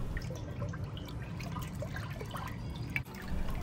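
Water is poured onto sediment while making tchakpalo, a traditional millet beer, giving a steady close trickle and drip of liquid that lasts a few seconds with a brief dip near the end.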